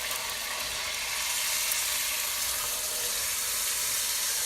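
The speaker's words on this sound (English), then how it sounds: "we're just going to pan fry it for a little bit" Pork pan frying for a Hmong pork stew gives a steady, loud, hissing sizzle that holds without pause, with no talk over it.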